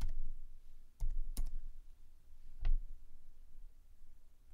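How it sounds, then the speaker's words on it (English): A computer keyboard is tapped in a few sparse, faint keystrokes with quiet pauses between them, and no one talks. "I'm just going to type in the Prophet Muhammad."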